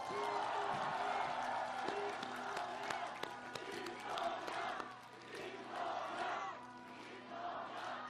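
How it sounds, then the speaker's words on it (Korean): Crowd at an outdoor political campaign rally in Yeongdeungpo, Seoul, clapping and cheering steadily, a dense, fairly distant wash of applause with shouts and a faint hum underneath. "쉽지 않은 결단 내려주신 우리의 동지 김동연 전 후보께 격려의 박수 부탁드립니다."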